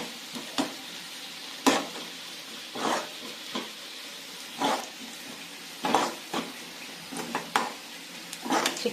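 Chicken pieces fry in coconut oil with a soft continuous sizzle, broken by repeated sharp clinks and scrapes of a utensil against the pan.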